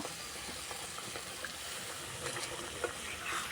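A small splash of water poured into a pan of fried spice masala and poppy-seed paste for a potato-cauliflower curry, a soft steady hissing gush heard quietly on its own.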